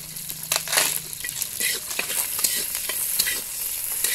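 Garlic, onion and chopped ginger hit hot oil in a heated kadai for a Bengali goat skin curry, crackling and sizzling loudly and steadily up close, with stirring scrapes throughout.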